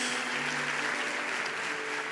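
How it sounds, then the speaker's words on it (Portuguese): Church congregation applauding during a sermon, a steady wash of clapping at moderate distance with a faint sustained tone underneath, continuous throughout. "Você pode dar ao Senhor um forte aplauso."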